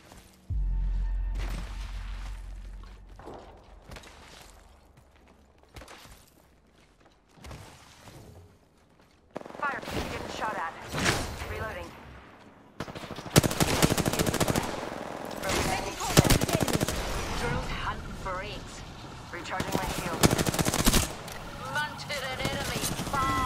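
Gunfire in a video game: scattered single shots and short bursts, some near and some distant, later turning into dense rapid firing, with people talking over the shooting.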